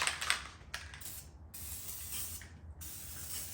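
Fluid Film lubricant sprays onto a rubber tire in several short hissing bursts with brief pauses, close and fairly quiet, while fitting an inner tube into a tubeless tire.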